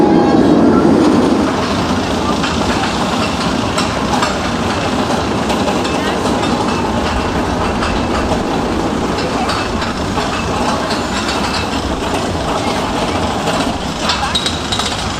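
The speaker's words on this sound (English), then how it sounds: "that classic arrow clanking of the lift hill on that mine train" An Arrow mine train roller coaster's lift hill chain at Six Flags Great Adventure gives a steady, continuous clanking rattle for about fifteen seconds, with a dense mechanical clatter and faint background voices.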